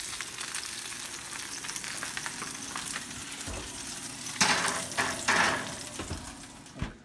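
A salmon fillet sears in a hot pan, a continuous loud sizzle with bursts of spattering and scraping as it is turned over toward the end, with no voices.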